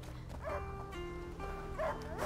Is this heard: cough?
no